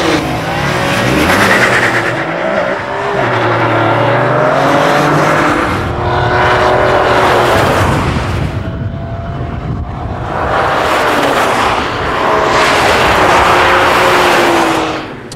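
A McLaren F1 supercar driving hard, its engine roaring and revving loudly through repeated rising and falling gear pulls for about fifteen seconds, with no speech over it.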